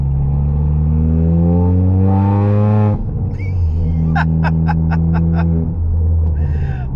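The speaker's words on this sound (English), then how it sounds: "they're going to accelerate in a second" A straight-piped Ford Fiesta ST180 revs up loudly and climbs in pitch, then drops after a shift and rises again with a few sharp crackling pops near the end, close and dominant.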